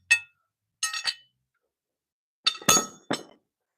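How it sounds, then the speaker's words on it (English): Metal farrier tools clink and chink together beside a nervous horse, in a few short bright bursts: a pair of taps, a pause, then a cluster of three sharper metallic clinks. "I'm going to make some farrier sounds"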